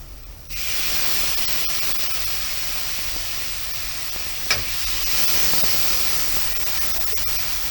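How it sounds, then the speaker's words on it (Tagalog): Red snapper frying in a pan, a loud, close, steady sizzle that starts abruptly and continues with a brief clatter midway, no talking. "Igigisa lang natin mabuti."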